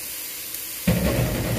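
Bitter gourd hits hot olive oil and a loud sauté hiss bursts in suddenly after a moment of quiet, continuing steady and close.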